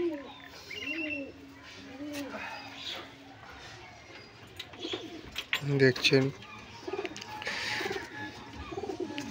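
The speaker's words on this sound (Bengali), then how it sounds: "বন্ধু এখন দেখাবে বন্ধুর সব পায়রাগুলো" Domestic pigeons kept in a tiled-roof loft at a friend's house coo in repeated low rolling calls, close and moderately loud, while someone talks over them and other rustles and brief sounds mix in.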